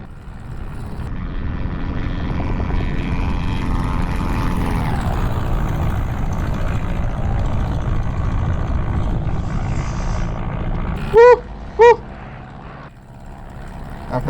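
Christen Eagle propeller biplane engine in the DCS flight simulator, a steady droning hum running throughout, with two short tonal warning beeps near the end.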